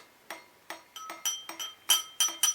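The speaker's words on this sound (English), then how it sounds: "Pick up number 1, tap it on the glass." Eight or so light metallic clinks as a key is tapped against a glass in a magic trick, spaced irregularly and growing slightly louder, close and without talk.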